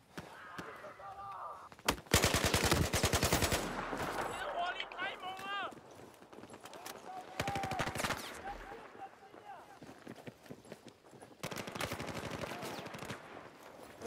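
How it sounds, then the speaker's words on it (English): Battlefield 4 gunfire, with loud bursts of rapid automatic fire and scattered single shots, broken by quieter gaps, while a player talks over the action. "Where is everyone shooting from?"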